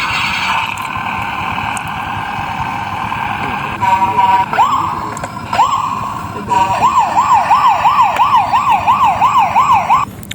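A toy police car siren plays up close and loud: a steady electronic tone first, then a fast wailing whoop that rises and falls in a quick, regular cycle until the end.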